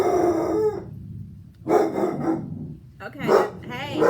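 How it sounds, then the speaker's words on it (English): Dogs bark in loud, close bursts, three rough rounds of barking with some howling tone, while a person talks over them. "Oh, my dogs."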